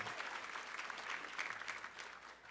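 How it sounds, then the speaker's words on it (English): Audience applause at a small business summit's opening session, a steady wash of clapping from a crowd that stays fairly even and slightly distant for the whole stretch, easing a little at the end. "So let's give our sponsors a round of applause"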